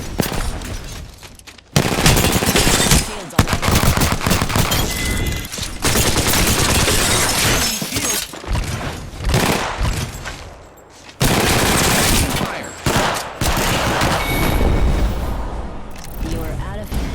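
Rapid gunfire crackles in bursts in the battle royale shooter Apex Legends, with loud automatic volleys broken by short gaps and jet-like whooshes, close and dense throughout.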